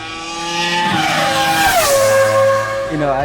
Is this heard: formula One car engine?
yes